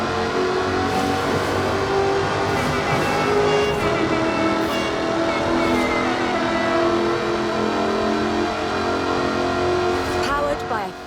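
A supercharged 5-litre V8 sports car with a fully aluminium body, in Forza Horizon 4, revs and pulls hard with a loud, steady engine roar that runs throughout.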